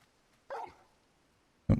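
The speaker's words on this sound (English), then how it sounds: "Bark." Torgal, the dog companion in Final Fantasy XVI, gives two short, gruff barks about a second apart, the second one louder and more abrupt, against near silence.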